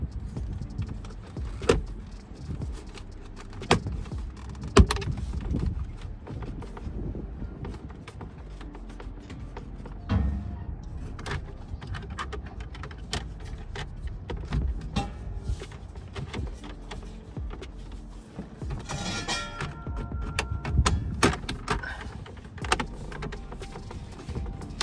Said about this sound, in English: Those new tabs are supposed to just click in.